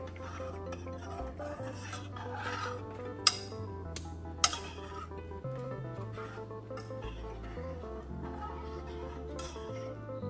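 Noodles stirred in a cooking pot make a continuous rasping scrape, with two sharp metallic clinks partway through and a low hum underneath.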